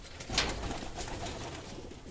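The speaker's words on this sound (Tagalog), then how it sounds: "Dami nating ibon dito." Stock pigeons in a loft coo softly, a low murmuring call rising briefly over faint background noise, with another bird sound a moment later, heard from close but at low volume.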